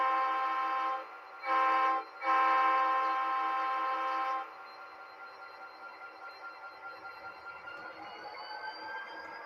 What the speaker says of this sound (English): That does sound like a 3-train horn.